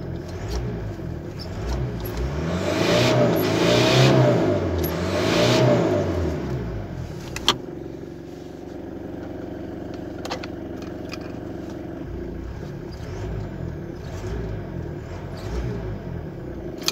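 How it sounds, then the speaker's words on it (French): A 1994 Mitsubishi Pajero with a 2.5 turbo diesel engine revs up and settles back to a steady rumbling idle, with the turbo audible. The engine is close and fairly loud, with occasional small clicks and no talk. "Je vous avouerai que le turbo on l'entend assez vite."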